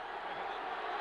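A noisy football stadium crowd at a 1979 Washington Redskins vs Detroit Lions game gives a steady, distant roar with no breaks, sounding like a broad wash of sound.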